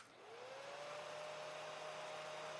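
Hair dryer blowing steadily on a cat after a shower, a constant broadband whoosh with a motor whine that rises at the start then holds level and close, no voices.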